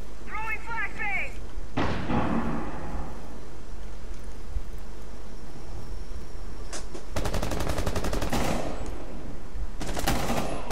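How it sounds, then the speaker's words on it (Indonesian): A flashbang grenade in Rainbow Six Siege. A thin popping clatter comes first, then later two long, loud, harsh bursts of crackling noise, with voices speaking over steady game ambience. "Throwing flashbang."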